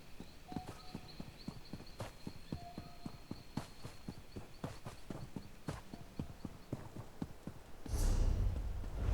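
Horse hooves clip-clop at a steady walking pace in a video game, evenly spaced and fairly close, before a burst of louder noise near the end.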